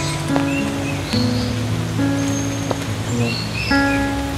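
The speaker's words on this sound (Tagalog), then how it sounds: "Parang timing ang ulan." Rain falls steadily on a tree-lined forest walkway at UP Diliman, a continuous close hiss with intermittent tonal hums and chirps woven through it.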